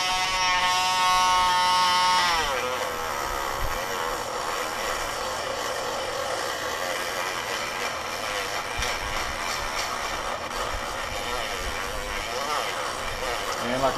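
A Dremel rotary tool sands a wooden rifle stock for a Hammer 7 sniper build, making a continuous high buzzing whine that shifts pitch after the first couple of seconds and then grinds on steadily at close range.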